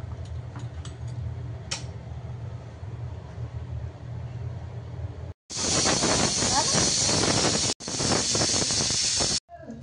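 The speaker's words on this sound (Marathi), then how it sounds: "कुकरचं झाकण लावून याच्या फक्त 2 शिट्ट्या घ्यायच्या कमी गॅसवर" A pressure cooker cooking dal khichdi on low gas lets out a loud, sharp steam hiss in two bursts separated by a brief gap, after quieter background sound.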